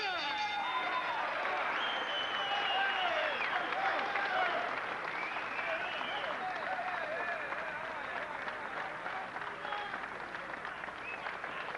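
A boxing crowd applauds middleweights Iran Barkley and Osley Silas after their fight, a steady wash of clapping and scattered cheers with faint voices mixed in throughout.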